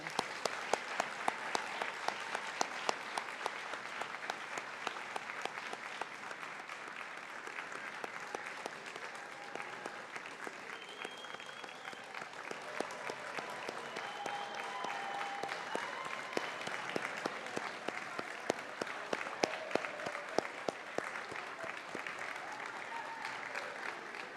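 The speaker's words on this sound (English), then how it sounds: "Please help me congratulate the new Sigma members with our applause to everyone." Sustained applause from a large audience at a Sigma nursing honor society induction, steady clapping that continues evenly throughout with no talking.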